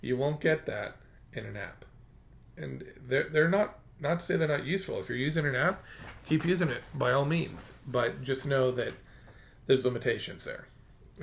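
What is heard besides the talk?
No distinct noise like a dog, phone or traffic.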